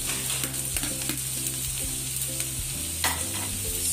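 Cabbage and mixed vegetables stir-fried in a pan give a steady, close sizzle with scraping stirs, under a faint tonal background.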